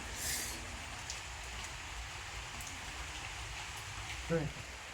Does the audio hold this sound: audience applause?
no